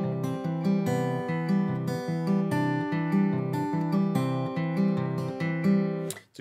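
Acoustic guitar played in a Travis picking pattern: a steady alternating bass under plucked treble notes, rolling evenly and clearly, then ending abruptly.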